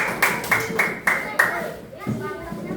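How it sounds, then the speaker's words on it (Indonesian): A classroom of children claps in a quick rhythmic pattern of about five sharp, loud bursts, followed by a short pause and then a softer, scattered patter of hands. "Tepuk tangan buat kelompok 4."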